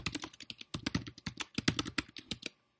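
Rapid typing on a computer keyboard into a notebook cell on a Mac, a close, busy stream of uneven key clicks and clatters with brief pauses, ending in a short silence and one last click.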